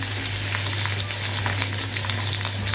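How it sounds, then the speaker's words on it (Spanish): Chicken browns and sears in a pan, a steady, loud, close sizzle with crackling pops and a constant low hum under it, with no talking. "solamente lo vamos a dorar un poquito y lo vamos a sellar"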